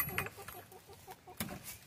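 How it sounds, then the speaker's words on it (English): Hens clucking inside a coop, a close run of quick, soft repeated clucks with a louder squawk near the middle and no voices. "I wanted to show y'all what was going on with these chickens."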